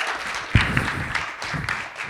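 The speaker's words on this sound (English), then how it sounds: "Can we give a round of applause to our volunteer readers?" An event audience gives a short round of applause for volunteer readers, a brief patter of clapping from a moderately distant crowd.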